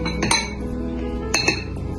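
Metal spoon clinks against a bowl while mashing banana, two clusters of bright chinks and taps over soft squishing, close up with no talking.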